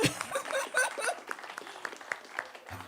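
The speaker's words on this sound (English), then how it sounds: "I appreciate you guys clapping" An audience at a live concert at The Fallout Shelter claps in a loose, scattered burst that tapers off toward the end, mixed with some murmuring and a brief voice.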